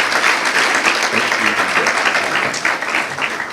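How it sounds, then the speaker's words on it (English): Audience applause at a holiday luncheon at the USC Galen Center, a loud dense wash of many hands clapping steadily throughout, near and sustained. "let's please give her a round of applause"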